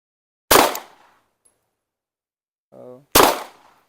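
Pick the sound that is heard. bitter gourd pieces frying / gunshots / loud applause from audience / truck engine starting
gunshots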